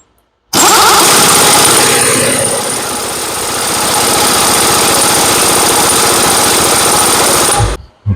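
A 3/4 inch drive impact wrench fitted with a 1.5 inch socket runs on a CASE excavator swing cylinder. It hammers loudly and continuously for about seven seconds, then stops abruptly, with no talk over it.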